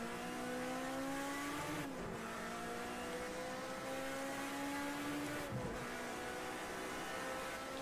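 Racing cars in a video game race with Mercedes and Nissan cars, engines droning loud and steady with rising pitch, dropping sharply twice at gear shifts before climbing again.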